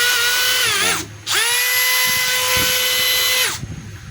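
A DeWalt DCD805 18V cordless hammer drill spins in plain drill mode with a smooth, steady whine, with no hammering. It runs briefly, drops out for a moment, then whirs again for about two seconds before winding down.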